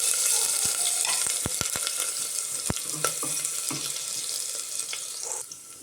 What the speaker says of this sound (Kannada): ಇವಾಗ ಸ್ವಲ್ಪ ಶುಂಠಿ, ಸ್ವಲ್ಪ ಬೆಳ್ಳುಳ್ಳಿನ ಕಟ್ ಮಾಡಿ ಹಾಕ್ಕೊಂಡಿದ್ದೀನಿ.